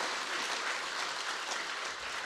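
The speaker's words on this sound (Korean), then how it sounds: "이런 가운데 박수 한번 제대로 쳐볼까요?" Church congregation applauding at a Sunday worship service for the retirement and ordination of church officers, a steady, dense clapping that fills the whole stretch without any voices.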